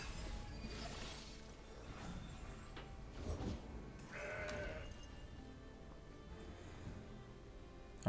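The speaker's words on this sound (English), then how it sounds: "Alright, they played the Mountain Goat." A Mountain Goat card in the video game Path of Champions gives a short synthetic bleat midway, set among game effects including brief shattering and impact sounds, moderately loud with no voices.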